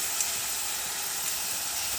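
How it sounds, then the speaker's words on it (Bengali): Ginger, garlic and green chili paste frying in hot oil while a meat ghugni is cooked, giving a dense, steady close-up sizzle and hiss that runs unbroken throughout. "এবার আমি এখানে আদা রসুন আর কাঁচা লঙ্কা বাটা দিচ্ছি"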